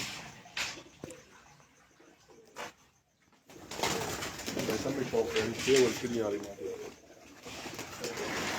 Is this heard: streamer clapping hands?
no